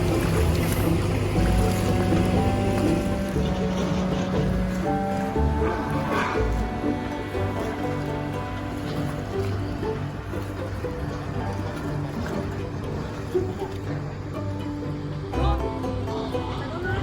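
A small passenger boat crosses the Marikina River, its motor droning low and steady with wind and water noise throughout, and a voice talking faintly over it.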